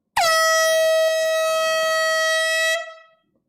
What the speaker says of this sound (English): The air horn's coming out.